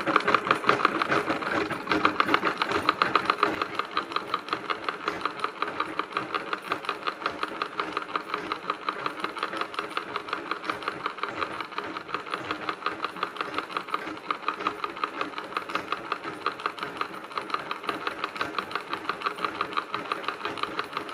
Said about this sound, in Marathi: त्याआधी मी डबल शिलाई करून घेते, जेणेकरून सुटू नये म्हणून